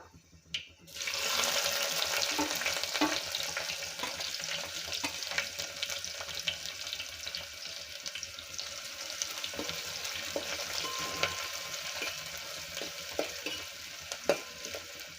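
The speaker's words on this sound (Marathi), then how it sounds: "कांदा छान असा तेलामध्ये होऊ द्यायचा" Onion frying in oil in a pan while being stirred, a steady close hiss and sizzle that starts abruptly and continues throughout with occasional scraping, no voices.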